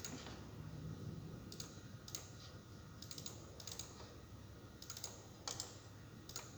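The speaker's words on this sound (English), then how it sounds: "So I'm going to type the program and save." A program being typed on a computer keyboard, with quick bursts of key clicks coming in clusters with short pauses between them, over a steady low background hum.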